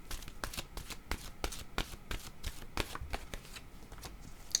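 A deck of oracle cards being shuffled, a steady run of quick papery riffles and flicks close up, with no voices.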